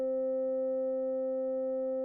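Krakli S4 synthesizer playing a pure sine waveform, a single steady sustained tone with a few faint overtones, unchanging and alone for about two seconds.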